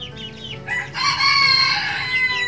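Tan Chau bantam rooster crowing once, a loud, drawn-out call close by that rises after a brief scratchy start and holds to the end, with farmyard bird noise beneath.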